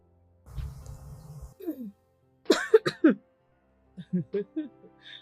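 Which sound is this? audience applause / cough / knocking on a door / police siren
cough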